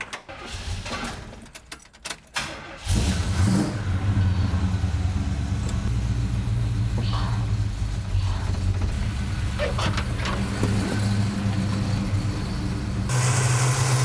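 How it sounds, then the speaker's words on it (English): Keys jangle before a high-horsepower car engine cranks and fires up, then settles into a loud, steady running rumble that shifts slightly near the end as the transmission is run through its gears. "I'm gonna fire it up, running through the gears, make sure the trans is full."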